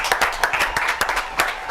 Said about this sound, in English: Let's give him a round of applause, everybody.